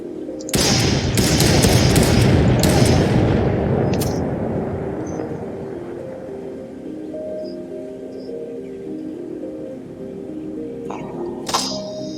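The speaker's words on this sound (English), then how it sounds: "This is the sniper rifle." Sniper rifle in the BotFightSim game fires a loud, sustained blast that rolls into a long fading rumble, followed by a soft tonal hum and a brief sharp click near the end.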